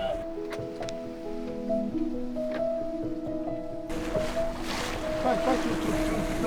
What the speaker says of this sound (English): The wind is light, the waves confused.